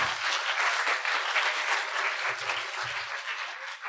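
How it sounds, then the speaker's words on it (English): An audience at a school winter concert claps steadily for a few seconds for a 6th grade beginning band, a dense, even round of applause heard fairly close, with brief low murmurs beneath. "give our 6th grade beginning band a round of applause"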